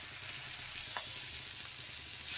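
Turmeric, chili and coriander powders with salt fry in a pan for an egg and potato curry, a soft continuous sizzle with light stirring, quiet throughout and rising slightly at the very end.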